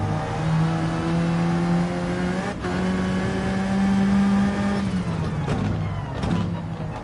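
A race car in Gran Turismo 7 on the Eiger Nordwand circuit drones through a lap, its engine note rising and falling through gear shifts with brief dips, steady and continuous, without talk.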